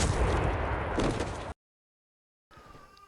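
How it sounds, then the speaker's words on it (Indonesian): Gunshot from a movie scene about gangsters and a samurai, a loud dense blast lasting about a second and a half, then a sudden cut to silence before quieter sound returns. "Namun tidak disangka Ayumi pun juga tewas ditembak oleh Kurosaki"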